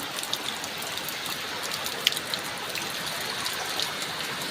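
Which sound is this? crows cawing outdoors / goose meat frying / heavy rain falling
heavy rain falling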